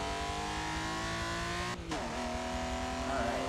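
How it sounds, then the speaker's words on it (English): Race car engine in Forza Motorsport, loud and close, revving hard, then a brief dip in sound as it downshifts before the note climbs again. Faint tire noise runs under it, with no voices. "Downshift."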